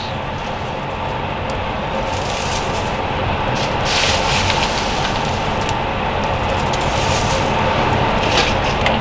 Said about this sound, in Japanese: しっかり煙をかけてから今度もうちょっと火を仰いで火をつけます。